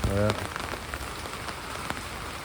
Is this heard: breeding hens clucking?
no